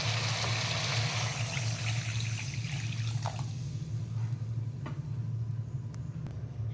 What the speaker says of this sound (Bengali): এবার কাঁচা লঙ্কা দিয়ে এবার জল দিয়ে দেবো।